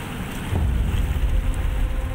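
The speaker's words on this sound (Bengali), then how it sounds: "হুহু করে ঢুকছে তিস্তার জল" Flooded Teesta river water in North Bengal, swollen by heavy rain in North Sikkim, rushes in as a dense, continuous roar that swells louder after a short moment and stays steady.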